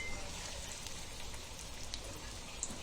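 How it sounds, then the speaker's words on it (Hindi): Macaroni cheesy chicken rolls fry in hot oil in a small pan over low heat, a faint, steady crackle and sizzle like light rain, with no talk. "बारीक गैस से फ्राई कर रहे हैं हम"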